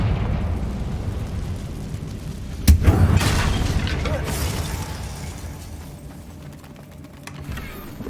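In the Hogwarts Legacy video game, a Confringo spell lands as a sharp, loud blast, followed by a rumbling, crackling decay over ambient background noise.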